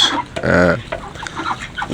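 Domestic ducks feeding on grass give a burst of loud, close quacking calls, followed by scattered softer quacks and rustling.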